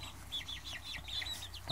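Backyard hens cluck softly in a quick chattering series, faint and somewhat distant over a low steady background hum.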